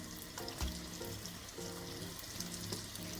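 Pastries fry in a pan of oil with a steady, quiet sizzle and bubbling that continues evenly throughout, with small crackles here and there.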